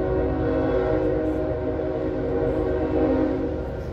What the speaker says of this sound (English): That's a 3-engine.